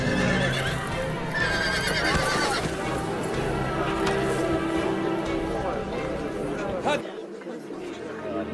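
A wild, untamed horse neighs loudly in a dramatized historical scene, its whinnies mixed with clattering hooves and the excited chatter of a gathered crowd of men.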